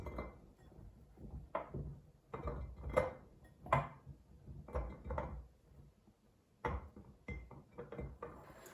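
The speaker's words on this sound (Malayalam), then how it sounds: "ഇനി നമുക്ക് നമ്മുടെ ചില്ലു കുപ്പിയിലേക്ക് നെല്ലിക്ക ഇടാൻ തുടങ്ങാം." Whole gooseberries dropped one after another into a glass bottle for salted pickle, each landing as a sharp, close clink or knock in an irregular rhythm, fairly quiet, with no talking.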